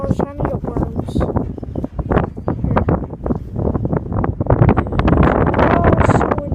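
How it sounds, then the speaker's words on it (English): Strong outdoor wind gusts hard against the microphone in a loud, continuous rumble, mixed with rustling and a person talking over it. "It's like really windy outside right now."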